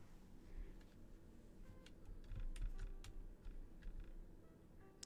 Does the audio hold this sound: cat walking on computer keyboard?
yes